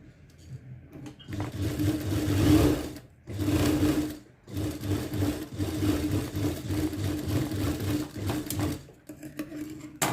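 A sewing machine runs in steady bursts, making a rough, large stitch on a blouse sleeve with small puffs. The whirring motor stops and restarts several times at close range, and no one speaks.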